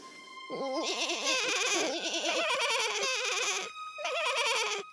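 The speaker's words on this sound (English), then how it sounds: "they heard the voices of the little goats" Several young goats bleat loudly in overlapping, wavering cries, close by, with a brief pause before more bleating resumes.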